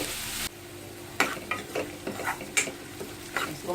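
Onions frying in a pan while a spoon stirs them, a continuous sizzle broken by repeated scraping strokes of the spoon against the metal in an irregular rhythm.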